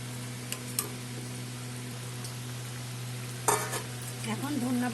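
Pabda fish go into a simmering curry with eggplant, adding a steady low bubbling and a soft sizzle, then a brief splash and clatter near the end.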